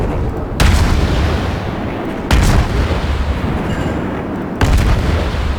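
Kirov heavy cruiser main guns firing in the naval video game World of Warships, three loud booming salvos spaced about two seconds apart over a constant rumbling background.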